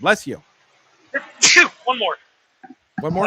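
A sharp, loud sneeze bursts out between short bits of speech during a casual Battletech discussion, with quiet gaps around it.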